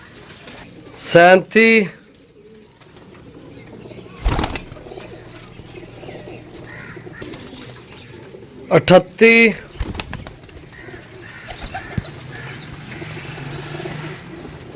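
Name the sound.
pigeons cooing and flapping wings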